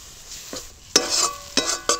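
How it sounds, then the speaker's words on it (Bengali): Gram flour (besan) frying in a spiced tomato masala for kachori filling, with a spoon stirring and scraping the pan in a few distinct strokes over a steady close sizzle. "বেসনটা দিয়ে দিলাম, দিয়ে একটু ভেজে নেব"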